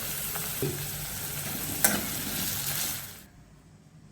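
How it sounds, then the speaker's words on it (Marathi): Steady sizzling of onion frying in a pan over low heat with a few stirring clinks, then the sizzle cuts off abruptly near the end. "मंद आचेवर आपण हा कांदा ब्राऊनसर भाजून घेणार आहोत"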